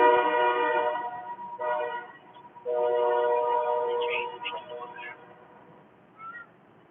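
A train horn blares in long sustained chords, loud and close, with a short pause between blasts before a quieter final call, while a voice speaks briefly over the tail.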